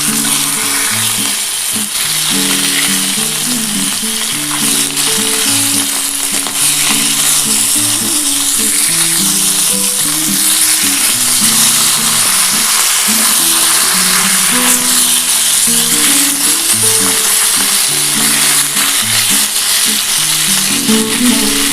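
Katla fish pieces fry in hot oil with a loud, continuous sizzle and crackle, steady throughout with occasional stirring.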